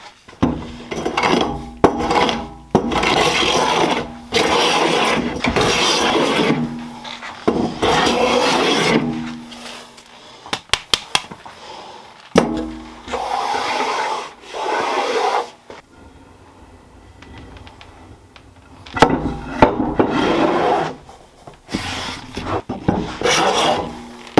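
A rasp files excess glue off a laminated wooden speargun blank in repeated long scraping strokes, loud and close, with short pauses between bursts of rubbing.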